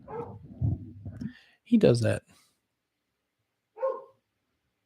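An old dog, about 13 years, barks indoors in a short burst mid-clip and again briefly near the end, with someone talking over and between the barks.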